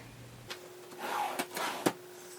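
A wardrobe drawer slides open with a few wooden knocks and a scraping rumble, followed by a sharp bump as it stops.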